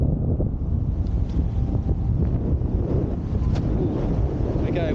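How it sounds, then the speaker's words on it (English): Strong wind buffets the microphone continuously while wing foiling on open water, a loud, steady roaring rush with faint splashing beneath it and no talking. "wind's definitely kicked back west, you can see by my angle. And it's kicked in hard"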